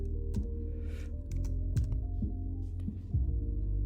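Quick bursts of computer keyboard typing, a handful of soft clicks entering an expression, faint and close over a steady low hum, with no talk.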